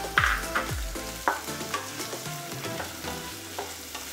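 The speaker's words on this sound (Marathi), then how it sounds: "आपण पॅनमध्ये कांदा घालूया. कांदाही छान लालसर भाजून घ्यायचा आपल्याला." Onion frying in a pan for kanda poha, a low sizzle beneath a run of spoon scrapes and knocks against the pan, louder at first and then settling into lighter stirring.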